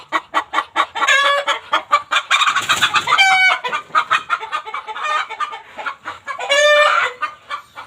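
Laying hens cluck busily on a rural farm, a near and loud run of rhythmic clucks with a few drawn-out squawking calls, no talking.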